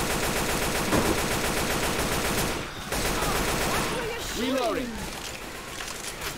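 Dense, continuous automatic gunfire in a video game rattles loudly almost without pause, briefly dropping out twice, while players talk over it.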